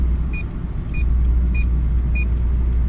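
Mercedes with an M111 engine, a blown head gasket and a knocking, overheating motor, driving: a steady low cabin rumble continues throughout, with four short, evenly spaced warning beeps sounding over it.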